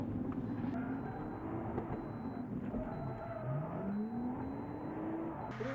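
Lexus car on a drift test drive, steady engine drone heard from inside the cabin with pitch rising and falling as revs change, continuous and moderately loud with no talking.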